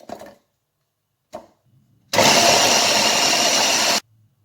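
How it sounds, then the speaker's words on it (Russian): A blender whirs loudly and steadily for about two seconds after a couple of brief knocks, then cuts off abruptly, chopping onion. "в блендере перебиваем лук"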